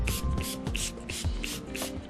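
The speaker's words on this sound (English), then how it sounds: "you're going to spray the plate with just the regular water" Repeated pumps of a spray bottle spraying plain water onto a plate, six or so quick hissing squirts in a steady rhythm, close up, with faint knocks between them.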